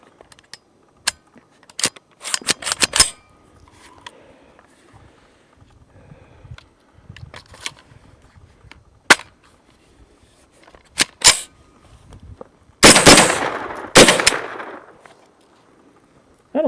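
A 9mm pistol-caliber carbine fires factory full metal jacket rounds outdoors, with several sharp shots spread irregularly through a jam-troubled session, some in quick pairs, plus metallic handling clatter and a louder burst of noise near the end.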